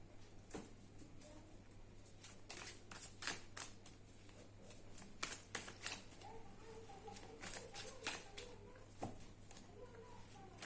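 Tarot cards riffled, shuffled and drawn during a weekly horoscope reading, soft quick flutters and taps in clustered bursts, close but faint over a low steady hum.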